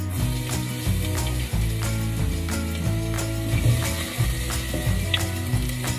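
Garlic sizzles and crackles steadily in a little hot oil over a low hum, with a faint rhythmic clatter, frying in a pan close by.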